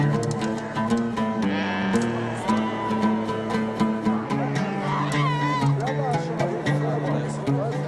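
Several sheep bleat repeatedly amid a busy crowd murmur and livestock noise at a livestock market in Morocco, with overlapping calls near and far.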